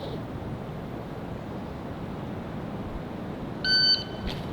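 Outdoors at a shooting range, wind rushes and buffets the microphone in an even, continuous roar. Near the end, a short electronic beep sounds.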